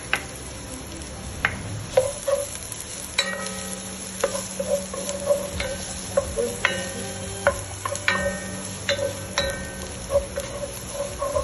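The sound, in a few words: onions sautéing in a pan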